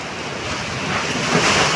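Typhoon wind roaring and shaking rooftops, a loud, steady broadband rush with gusts swelling toward the end, no voices.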